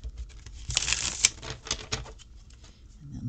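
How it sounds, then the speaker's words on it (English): A deck of tarot cards is riffle-shuffled close by, a quick dense flurry of crisp fluttering clicks lasting a couple of seconds before tailing off. "And let's get these two cards out of here and let's shuffle."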